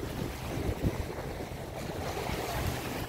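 Sea waves wash steadily onto a warm beach, a continuous low rushing surf with wind noise buffeting the microphone, no voices.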